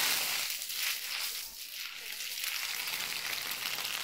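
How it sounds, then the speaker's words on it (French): A sausage frying in a pan, giving a steady crackling sizzle with fine popping throughout, fairly close and continuous. "La saucisse est déjà dorée. Elle a donné une très bonne friture."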